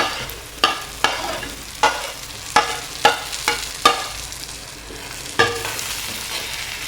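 A spatula stirs roasted lentils with curry leaves in a frying pan, making a series of sharp scrapes and knocks at an irregular rhythm over a low sizzle.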